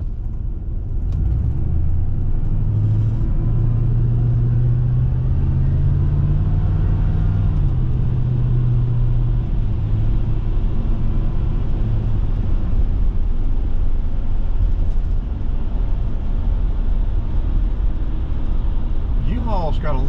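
Steady road traffic rumbles past on busy streets lined with car lots around Snellville and Loganville, Georgia, a loud continuous engine and tire drone throughout, with people talking over it.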